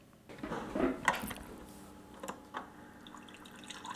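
Water runs from a newly reconnected refrigerator water line, a soft splashing trickle with a few sharper drips and splatters, loudest early on and then settling into a quieter steady flow.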